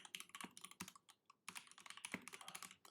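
Typing on a DZ60 mechanical keyboard with Tilios switches in a wooden case, quick close clacking keystrokes in two bursts separated by a short pause.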